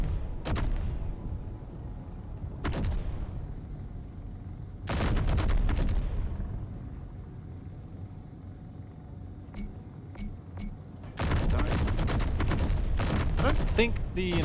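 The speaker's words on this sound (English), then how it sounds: "We're being fired at. Please return fire." Gunfire in a video game firefight, several separate short bursts of shots with quieter gaps between them, ending in a longer sustained volley, with people talking faintly in between.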